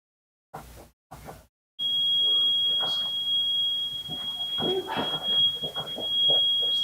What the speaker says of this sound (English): Yeah, that door has an alarm on it.